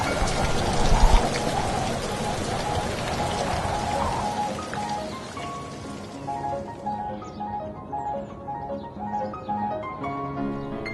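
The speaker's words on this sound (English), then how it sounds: "The rain just keeps coming." Spring rain falls in Chicago, a loud, close, dense patter for the first few seconds that then thins and fades beneath a soft melodic music bed.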